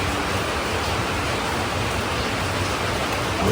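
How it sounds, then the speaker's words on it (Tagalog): Steady rain falls outdoors as a dense, even hiss that stays unbroken and fairly loud throughout, with no voices. "Walang tigil naman ang ulan, oh."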